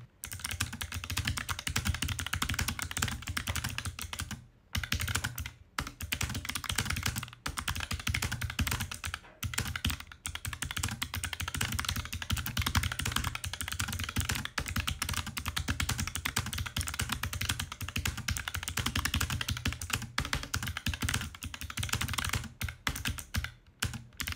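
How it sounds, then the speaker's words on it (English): Fast, continuous typing on a netbook keyboard during a typing test gives dense, close clicking and clattering keystrokes, broken by a few short pauses. "I'm going to do a typing test with the keyboard"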